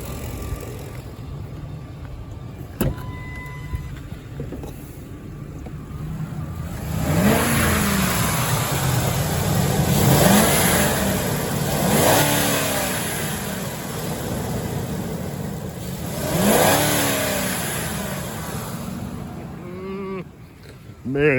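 A 2005 Ford F-150 pickup with a 5.4 Triton V8 revs up several times in loud, rising surges after a quieter idle, the engine note climbing and falling with each blip; a voice speaks briefly near the start.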